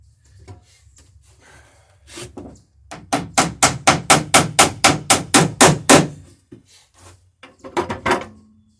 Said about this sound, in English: Sounds like we're riveting.